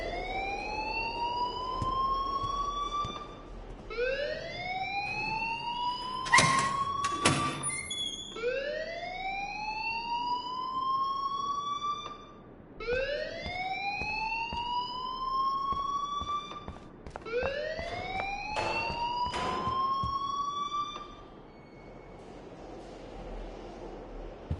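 A rising, wailing alarm cycles repeatedly in Life Is Strange, each sweep climbing in pitch before restarting, loud and sustained, with a couple of brief sharp bangs partway through.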